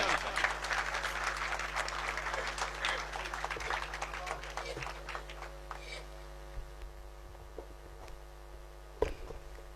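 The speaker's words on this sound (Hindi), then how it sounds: "भरपूर तालियां होनी चाहिए" Audience applause at a mushaira poetry gathering: dense clapping fills the room at first, then thins and fades to a few scattered claps over a low hum.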